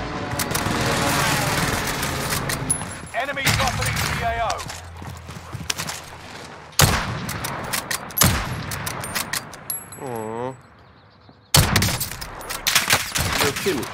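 Gunfire in the Warzone video game, with sharp bursts and single cracks in irregular clusters, loud and close, broken by brief quiet gaps, and players talking over the action.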